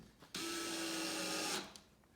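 A power drill drives short black screws into the back panel of a farmhouse wall cubby coatrack, one steady whirring burst lasting over a second before it stops, close by with no talk.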